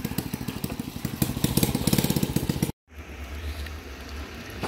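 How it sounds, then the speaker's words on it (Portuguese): Motocross motorcycle engine on the BR-319 highway, a loud buzzing drone with rhythmic pulses that cuts out abruptly, then a lower steady rumble follows. "Aí chegando aqui o motocross"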